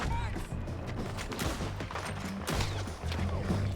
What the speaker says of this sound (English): eso fue headshot, doble headshot